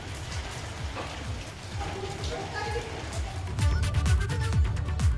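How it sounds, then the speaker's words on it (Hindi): Steady heavy rain pours down during a cold spell in the hills of Uttarakhand, a dense continuous patter on surfaces that swells louder toward the end, with no voices heard. "निचले क्षेत्रों में बारिश हो रही है"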